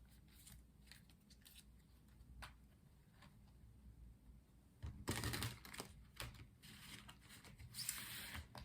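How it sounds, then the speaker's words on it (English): Tarot cards are shuffled softly in the hands, a quiet run of papery flicks and riffles that grows busier and louder in bursts toward the end, with no talking. "Let's do some shuffling."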